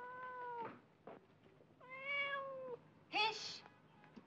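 A cat meows repeatedly, with three long, clear, nearby meows and a short yowl between them, the last rising higher and sharper, set in an Egyptian comedy film scene.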